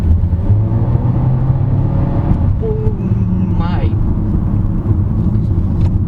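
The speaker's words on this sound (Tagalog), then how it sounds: "as you can tell, the turbocharged engine is really peppy" A turbocharged 2022 Honda HR-V V Turbo pulls ahead with a low, steady engine drone heard from inside the cabin, while a voice talks over it throughout.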